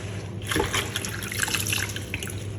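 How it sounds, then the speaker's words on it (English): Callaloo leaves are rinsed under running water to wash off salt, a continuous close splashing and trickling that lasts throughout, with no voices. "So what I'm doing is rinsing off the salt off it"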